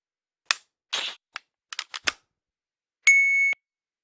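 Pistol dry fire with a G-Sight LaserHit laser trainer: several sharp, close clicks of the trigger in an uneven sequence, then a short electronic beep, all in quiet surroundings.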